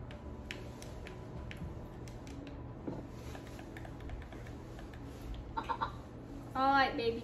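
Minecraft chickens cluck in short scattered clicks over a low hum, with a brief burst of louder chirping near the end.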